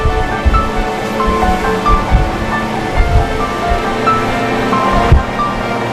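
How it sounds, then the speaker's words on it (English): Dakar 2010 rally vehicles plough through a river, throwing up a loud, sustained rush of splashing water over the droning of an engine, with surges of spray recurring throughout. "they have to go through a river again"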